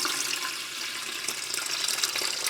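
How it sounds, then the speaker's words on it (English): Filtered water pours steadily into the tank of a Levoit Sprout evaporative humidifier, a continuous close splashing trickle with no talking. "So just gonna pour this out."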